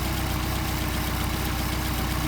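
A Mercedes 190SL engine with Solex carburetors idling close up: a steady, loud, pulsing mechanical drone that runs throughout, with no voices.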